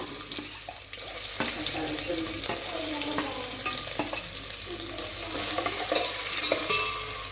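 Onion frying with curry leaves and cumin in a kadhai, a steady close crackling sizzle with stirring scrapes and clatters running throughout, no voices.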